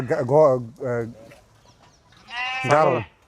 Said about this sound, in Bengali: ছাগল দেখো কতগুলো আছে